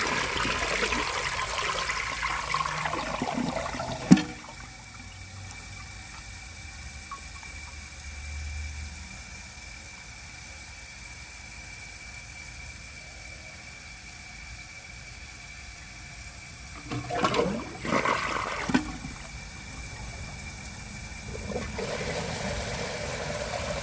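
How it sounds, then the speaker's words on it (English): A 2014 Vilbomex Marathon toilet flushes as its tank is emptied, with a steady low rush of draining water and louder gurgling surges near the start and again toward the end. "I'm just going to empty the rest of the water out of the tank and see if it can pull it through the rest of the way."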